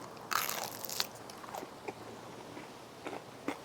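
Crisp bites into crispy barbecued chicken skin with crunchy chewing close to the mic, a sharp crackle at first followed by softer, intermittent crunches.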